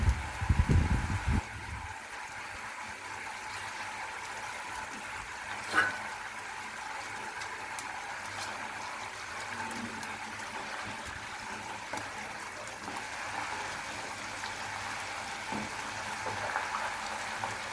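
Puti fish sizzling in hot oil in a pan while being cooked for a mustard curry: a steady, close hiss of frying runs throughout, with a brief clatter of handling at the start and a small pop midway.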